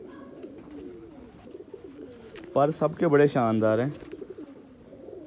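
Pigeons with jewelled rings, kept by a flier, coo in a low, throaty burst of repeated notes lasting about a second and a half near the middle, with someone talking before and after.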